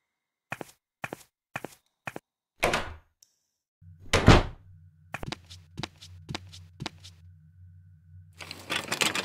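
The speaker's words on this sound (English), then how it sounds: "The door was firmly locked." A locked door tried in the Edna & Harvey: Harvey's New Eyes video game, several sharp footsteps, then a rattling handle and a heavy thud, followed by a low hum and more clicks, close and clear.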